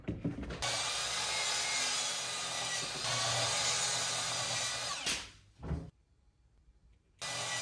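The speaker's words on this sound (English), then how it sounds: "as soon as I drilled into it, it immediately split in half" A power drill bores into old fiberboard trim, grinding loudly and steadily for about five seconds, then stopping with a brief burst before near silence and a short final rasp.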